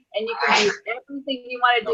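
A single sharp, breathy sneeze bursts out near the start, surrounded by ongoing speech.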